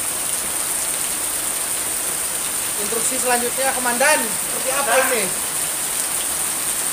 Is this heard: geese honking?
no